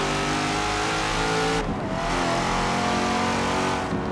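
A big car from the March DLC pack in Forza Horizon 3 revs hard with a loud, continuous engine roar that dips and shifts in pitch about midway, with no talking.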